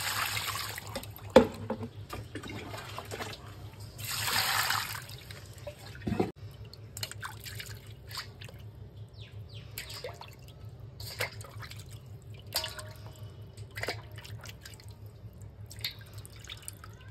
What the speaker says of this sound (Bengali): মাছগুলো কাটা হয়ে গেছে, এরপরে ধুয়ে নি ভালো করে।